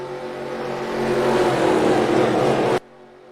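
Race cars rumble out of turn 4 at Daytona in the eNASCAR Heat game: a dense, steady engine drone that builds slightly in loudness, then cuts off abruptly near the end.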